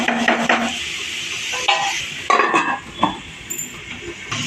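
Bottle gourd being sautéed in a pan over low heat, with a spoon scraping and clinking against the metal in irregular close strokes over a faint sizzle.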